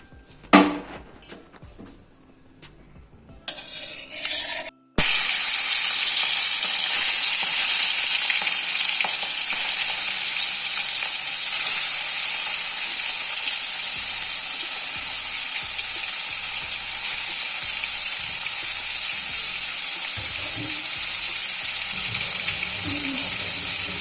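Prawns marinated in salt and turmeric fry in hot oil, a loud, steady sizzle that starts abruptly after a few seconds of quieter kitchen clatter and then continues unbroken.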